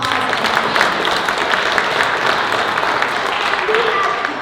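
An audience applauds volunteers at a poetry recitation state finals event, a moderate, steady wash of clapping throughout the short stretch.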